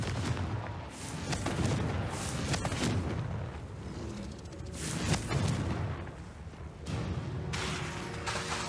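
Confringo fire spell explosions in the Hogwarts Legacy video game, a dense run of booming blasts and crackling bursts one after another, loud and close, with no speech over them.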